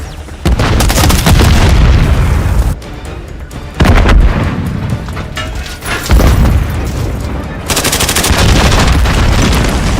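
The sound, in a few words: grenade explosion in Call of Duty MW3 video game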